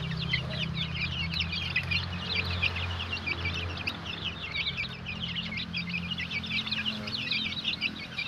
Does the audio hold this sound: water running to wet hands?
no